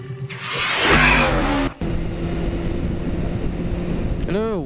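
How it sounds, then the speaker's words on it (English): Motorcycle ride heard from a helmet-mounted position, loud wind rush and steady engine drone, with a brief dropout partway through, a rising rev near the end and a voice over the noise. "God, I love to ride my bike."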